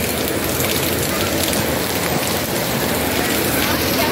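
Rain falls at night in a steady, dense hiss of drops on surfaces that stays constant and close, with voices faintly present beneath it.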